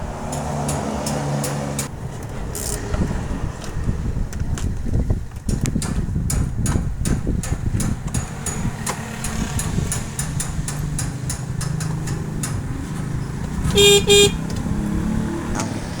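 A car that had failed to start, now repaired with a new relay, cranks and catches, its engine rumbling steadily up close, with clicking and a short horn toot near the end and no talk.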